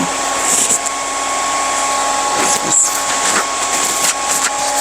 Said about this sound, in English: I'm at work and the dryers are going.